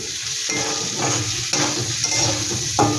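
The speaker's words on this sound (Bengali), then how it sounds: "এটা একটু ভালো করে আমি ভেজে নেব" Beans, capsicum and green chillies fry in a pan with a steady, close sizzle, broken by a few scraping stirs of a spatula; no talking.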